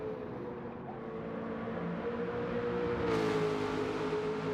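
A race car in a racing video game drives past through a hairpin, its engine a steady, fairly loud drone whose pitch shifts slightly as it goes by, with no talk over it.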